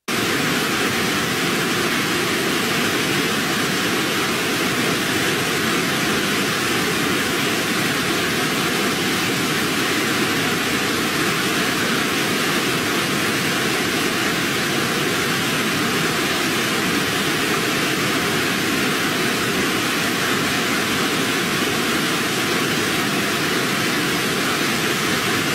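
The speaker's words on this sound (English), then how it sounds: "the sound of the waterfall coming on" Waterfall rushing in a dense, unbroken roar, loud and close, holding steady without any pause or voices throughout.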